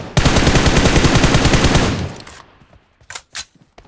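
Automatic gunfire in PUBG Mobile played on an iPad mini 5: a loud, rapid burst of shots lasting about two seconds, followed by a few short, sharp clicks and taps.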